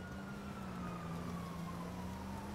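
A fire engine siren in GTA V wails quietly and slowly falls in pitch over a continuous engine rumble, with no talking.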